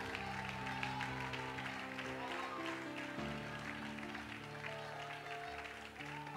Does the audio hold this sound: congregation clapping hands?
yes